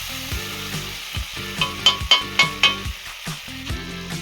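Meat and carrots sizzle in a kazan over an outdoor fire, a steady close frying hiss with a few sharper crackling pops in the middle, no talking.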